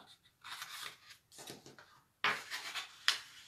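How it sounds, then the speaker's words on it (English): A bone folder burnishes the fold of folded cardstock, giving a few dry rubbing, scraping strokes in short bursts, close and fairly quiet, with no talk. "use your bone folder. to burnish the fold on it"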